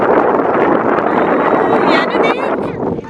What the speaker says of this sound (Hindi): और हवा चल रही है